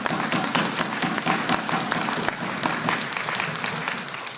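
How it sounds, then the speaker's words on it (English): Conference audience applause, a full burst of many hands clapping that thins slightly toward the end. "Big round of applause."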